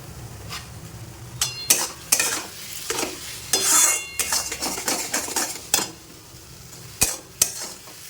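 Semolina pulao stirred in a pot with a spoon scraping and clinking against the metal in irregular bursts, with a faint sizzle between strokes.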